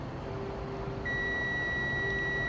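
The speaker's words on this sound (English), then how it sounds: "This one gives you audio beep." Multimeter sounding a continuous audio beep while testing a circuit board from an Ego lawnmower, a thin steady tone that starts about a second in and holds over quiet background hum.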